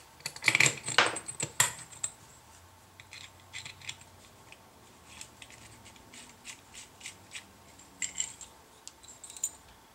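Small metal parts dropped and rattled into a homemade sandblasting drum, a burst of clinking metal at the start followed by quieter scattered taps and scrapes, close up with no voices.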